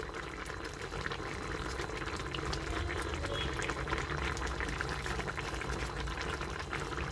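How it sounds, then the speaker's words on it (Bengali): Fish curry gravy with mustard paste bubbles steadily in a pan for tangra fish jhal, a continuous dense simmer with crackling bursts close up, unbroken from start to end. "ঝোলটা ফুটতে শুরু করেছে, এবার মাছগুলো আমি দিয়ে দেবো এতে।"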